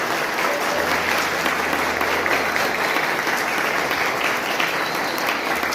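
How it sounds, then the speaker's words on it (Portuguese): A church congregation at an evangelistic service claps continuously for Maria Helena after her baptism. The applause is full and steady throughout, with no break and no clear speech over it. "Uma salva de palmas aqui para Maria Helena."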